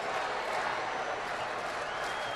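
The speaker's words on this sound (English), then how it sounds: "a small group began the chant, "Let's go Mets," so the crowd reacts with boos" A big baseball crowd of about 31,000 at a 2011 Mets road game boos a small group's "Let's go Mets" chant, filling the stadium with a steady, dense roar of jeering voices throughout.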